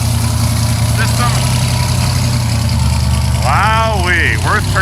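Several classic Pontiacs — a Judge, a Trans Am, a GTO and a Formula — rumble on steady low idle at a Pontiac show in Warwick, RI, with crowd voices and chatter over the engines.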